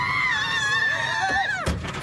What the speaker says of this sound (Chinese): 台中这名女骑士突然暴走，跑到马路，惊声尖叫